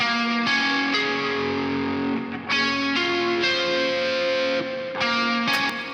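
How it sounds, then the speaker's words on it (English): Clean electric guitar in a metal mix plays sustained chords in several phrases, each ringing out with a heavy, washy reverb tail; no voices. "He also played some clean guitars on the same part."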